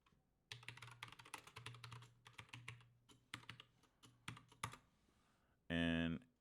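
Someone types code on a computer keyboard: rapid, uneven clusters of close, crisp key clicks in bursts over several seconds, with a low background hum and a brief tonal electronic sound at the end.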